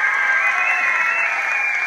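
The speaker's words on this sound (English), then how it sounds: "Let's give a nice round of applause for Miss Fefa." An audience at an elementary school music festival applauds steadily, a dense wash of clapping from many hands, loud and even for the whole short stretch.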